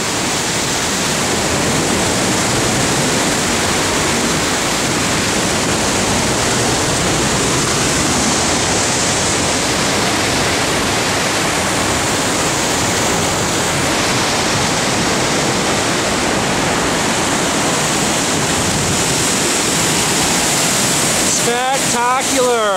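Piedras Falls waterfall roars in a loud, steady, unbroken rush of heavy falling water, heard close up from the spray zone for the whole stretch.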